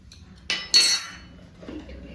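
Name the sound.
spoon clinking in cooking pot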